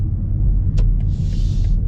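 A BMW single-turbo B58 inline-six running steadily, a loud low rumble close by with a brief hiss and soft airy noise over it.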